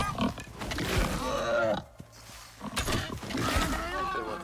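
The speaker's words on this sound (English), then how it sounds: "it looks like there's a boar." A boar grunts and snorts in a survival video game, producing rough, growly animal noises that are fairly loud and close. Speech overlaps with the grunting throughout.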